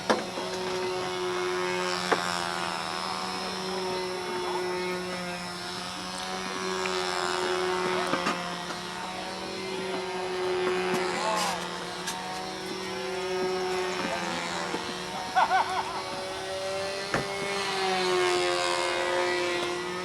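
Model aircraft engine in flight at a control-line flying event, a steady buzzing drone that swells and fades as the plane circles, with faint background voices.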